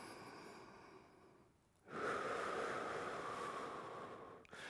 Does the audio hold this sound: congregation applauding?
no